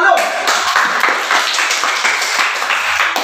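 An audience claps in a brief burst of rapid, overlapping hand claps at a peer-teaching session, loud and close, with voices mixed in throughout.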